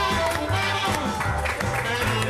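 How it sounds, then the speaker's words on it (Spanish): A studio audience applauds a magician, Alberto Lionel, after a card trick, producing a dense, steady wash of clapping that fills the whole moment without a break. "¡Fuerte aplauso para Alberto Lionel!"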